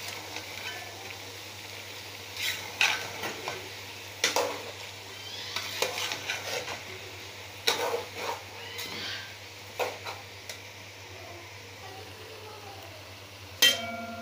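Tomato paste, garlic and black pepper are stirred in a soup pot for chicken soup, giving quiet intermittent scraping and clinking strokes over a low, soft sizzle with a faint hum underneath.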